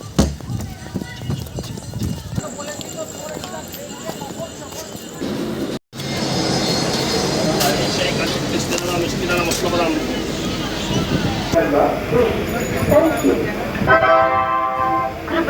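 A train pulls into a busy station with a rumbling, clattering approach. Short horn toots sound near the end, and people talk over the noise.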